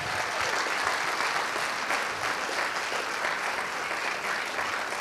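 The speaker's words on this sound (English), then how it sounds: "big round of applause" Steady, continuous applause from a lecture audience, filling the hall at an even level for several seconds with no voice on top.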